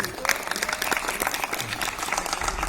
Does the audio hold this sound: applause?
yes